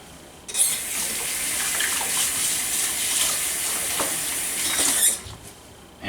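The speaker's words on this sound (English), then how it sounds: "Just rinse my hands off real quick." Water from a kitchen tap runs steadily and splashes while hands are rinsed at a sink, a loud, close, continuous hiss that starts abruptly and cuts off after about five seconds.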